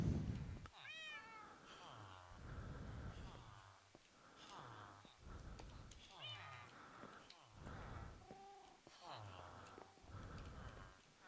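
Cats meow repeatedly in the Minecraft video game (Java Edition 1.17.1, hardcore survival), a steady run of clear, drawn-out meows with short gaps between them, close and prominent throughout.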